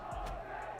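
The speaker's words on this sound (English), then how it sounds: "Crowd begins to chant of Jose." Boxing arena crowd at a Mike Tyson fight chanting the name "Jose" for his opponent Ribalta, a brief burst of massed voices roaring and calling together, loud and reverberant.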